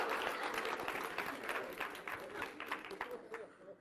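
An audience claps unevenly and out of rhythm, a dense patter of many hands at low level that carries on for the whole stretch.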